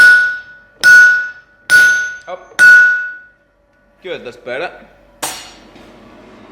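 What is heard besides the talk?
sledgehammer striking hot steel while forging wolf jaw tongs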